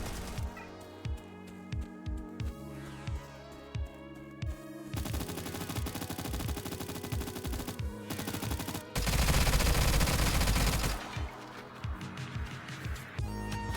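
An A-545 rifle fires in the video game STALCRAFT, first as evenly spaced single shots, then as long rapid automatic bursts, loud and close, with brief pauses between strings of fire.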